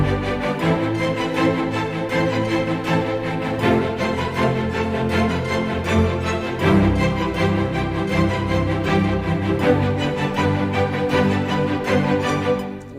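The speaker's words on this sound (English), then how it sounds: "We've got the staccato strings that will sound like this." Staccato orchestral strings play short, repeated notes in a steady driving rhythm over a fuller orchestral arrangement with low soft brass, loud and continuous throughout with no talking.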